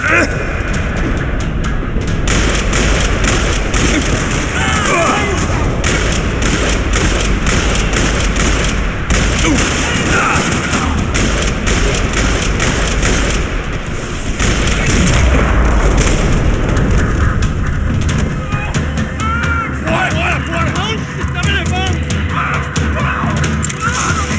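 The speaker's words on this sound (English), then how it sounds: "Another parking lot rattling with gunfire." Continuous loud bursts of rapid gunfire and booming explosions in a parking lot in the game Max Payne 3 fill the whole stretch, dense and relentless, with a voice faintly mixed in.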